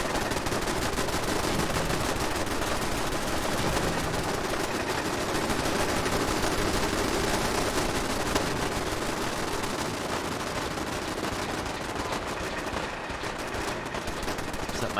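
Turrets firing nonstop in the game Fallout 4, a dense, loud, continuous rattle of gunfire without a break.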